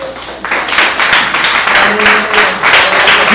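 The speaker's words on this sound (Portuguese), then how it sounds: "Os irmãos podem sentar e bater palmas para o Rei." Church congregation clapping in praise for the King, a dense run of rhythmic handclaps filling the room close and loud, with faint voices mixed in.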